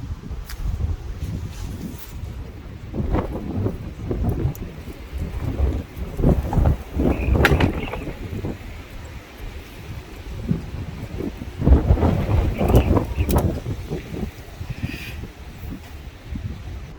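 Wind gusting across an outdoor garden where onions and fruit trees are being planted, a steady rushing roar with louder buffeting swells against the microphone, continuous throughout with no talking.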